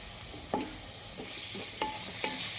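Ginger garlic paste and translucent onion sizzle in a pan for mutton curry while a spoon stirs, a steady frying hiss broken by several scraping strokes at uneven intervals.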